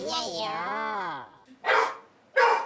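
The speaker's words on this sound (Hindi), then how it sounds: "आपकी हिचकी भगाने के लिए खास तौर पे कुत्ते को मंगाया है।" A dog barks twice in short, loud bursts near the end, after a stretch of a person's drawn-out, wavering voice.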